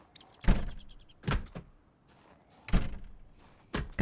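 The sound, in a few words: door opening in a video game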